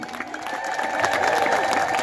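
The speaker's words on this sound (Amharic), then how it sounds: "እስኪ አጨብጭቡ" An audience claps and cheers together during an Ethiopian church poetry gathering. The applause is dense and sustained and swells slightly toward the end, with scattered voices mixed in.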